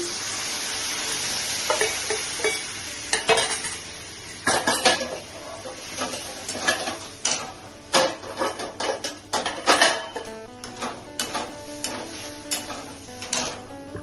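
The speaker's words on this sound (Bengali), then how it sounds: "এখন ছোলার ডাল সিদ্ধটাকে আমি ঢেলে দিচ্ছি" Boiled chana dal being poured into a pan of spices and chillies, heard as a clatter of utensils and pan knocks with a soft sizzle and stirring over about fourteen seconds, fairly close and with no talk.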